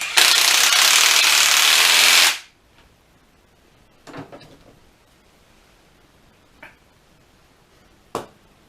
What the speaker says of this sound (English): and tighten up with the gun.